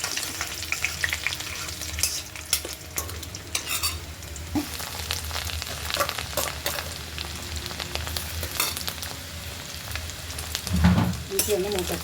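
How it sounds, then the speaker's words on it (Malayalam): Garlic and ginger fry in a pan for a date and bilimbi pickle, giving a steady close sizzle broken by scraping stirs and clinks of a spoon, with no talking. "വെളുത്തുള്ളി ഒന്ന് വഴണ്ട് പറഞ്ഞ് ഇഞ്ചി വരും."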